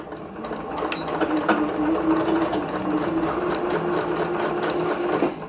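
A sewing machine stitches stretchy sweatshirt fabric, beginning with a reverse stitch, and runs as a steady, close, continuous mechanical whir for the whole stretch.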